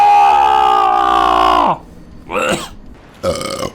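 A loud, drawn-out belch lasts almost two seconds with a steady, rumbling pitch. Two shorter throaty vocal grunts follow it, all close to the microphone.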